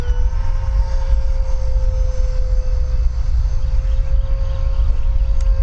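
A Freewing F/A-18C 90mm electric ducted-fan RC jet whines steadily through an aggressive high-G loop, with a sustained high tone over a rushing roar at moderate distance and no talking.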